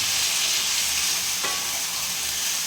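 Chicken curry with potatoes sizzles steadily in a pan while being stirred, a bright continuous frying hiss with a single soft utensil scrape partway through.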